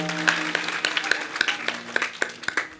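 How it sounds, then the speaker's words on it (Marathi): A short burst of hand clapping with distinct, fairly regular claps, a few hands together rather than a large roaring crowd, at a Marathi kirtan devotional performance. "टाळ्या वाजवा सर्वांनी एकदा"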